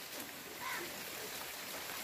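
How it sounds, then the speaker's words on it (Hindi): Light rain falls as a steady, soft broadband hiss, quiet and even throughout, with no voices. "हल्की हल्की बारिश होने की वजह से काफ़ी शांत माहौल बन चुका है।"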